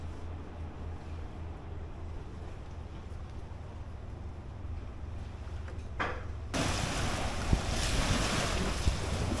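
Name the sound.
sea waves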